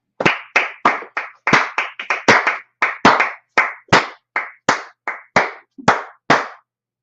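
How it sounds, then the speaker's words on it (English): A group claps hands together in a steady unison rhythm, about fifteen sharp loud claps over several seconds at a brotherhood class, with no talk over them. "Clap it up."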